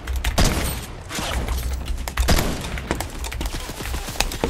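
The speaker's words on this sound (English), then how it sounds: "I'm getting shot from every team possible" Rapid bursts of gunfire from a ranked solo match in a video game, loud and close, with repeated sharp cracks and thuds rattling through the whole stretch.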